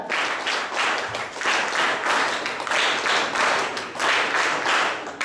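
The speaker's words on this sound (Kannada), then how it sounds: "ಚಪ್ಪಾಳೆ ಸ್ಟಾರ್ಟ್." An audience at a closing ceremony of a de-addiction camp claps in a sustained round of applause that swells and dips in waves, dense and fairly close, with no voices over it.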